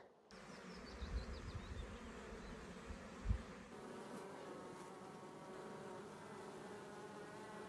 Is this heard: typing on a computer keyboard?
no